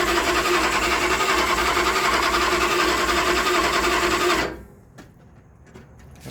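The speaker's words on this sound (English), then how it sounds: "we'll do a little more cranking just for the show" An engine cranks over without starting, giving a steady, fast mechanical churn for about four and a half seconds before it stops abruptly, leaving faint clicks and quiet.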